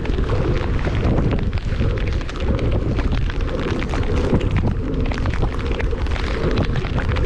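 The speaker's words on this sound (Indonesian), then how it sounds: "Dia datang angin ada guys" Strong sea wind buffets the microphone continuously while kayak fishing off Melaka near Pulau Upih, a loud rumbling roar with gusty swells and no talk.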